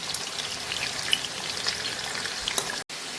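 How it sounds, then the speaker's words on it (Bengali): Potatoes frying slowly in white oil over a low flame give a steady, fine crackling sizzle with a few scattered pops, then a brief drop to silence near the end. "এবারে লো ফ্লেমে আস্তে আস্তে লাল লাল করে আলুগুলো ভাজতে হবে"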